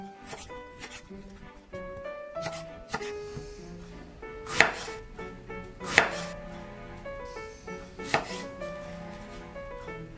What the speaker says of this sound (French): je coupe des bâtonnets